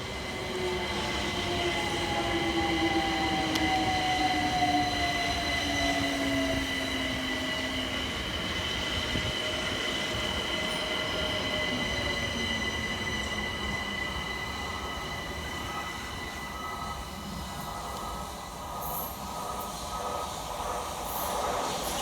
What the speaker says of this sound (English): Arriving next into the station is 378140 with the 1245 London Overground service from Highbury and Islington through to West Croydon.